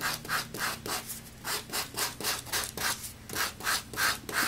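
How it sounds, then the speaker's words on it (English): Sandpaper rubs lightly back and forth around the edges of a wooden wall-hanging panel, about a dozen even, rhythmic strokes close up with no talking. "So what I'm going to do is just sand lightly around the edges."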